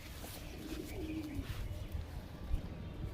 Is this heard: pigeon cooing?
yes